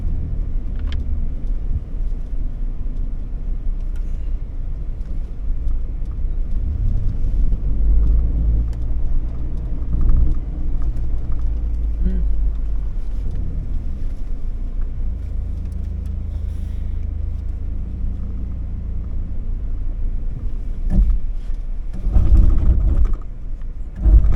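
A low, rough grinding rumble from a car's downhill assist control engaging intermittently as it crawls slowly down loose rock, with mechanical buzzing and crunches, louder near the end.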